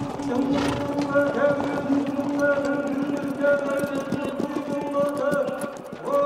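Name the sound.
horses trotting on victory laps in stadium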